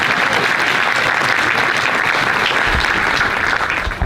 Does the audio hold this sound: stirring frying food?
no